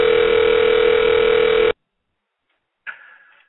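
A telephone tone sounds on a radio show, a steady loud electronic ring for under two seconds, then silence, then a short fainter tone that fades out.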